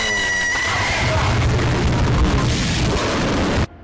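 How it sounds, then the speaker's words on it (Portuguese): A firework rocket explosion plays as a stream donation alert: a loud, sustained crackling blast that roars for several seconds and then cuts off abruptly. "soltou um rojão de qualidade extremamente duvidosa, deixando todos surdos"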